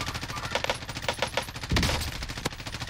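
Rapid bursts of MP5 submachine gun fire in Call of Duty: Modern Warfare, a loud, fast rattle of shots with a heavier blast partway through, with no talking.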